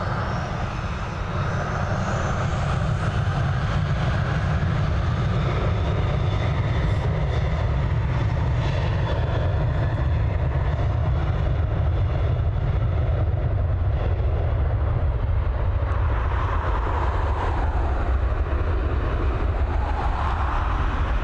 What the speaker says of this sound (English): Heading over to London Gatwick this time with this Boeing 737.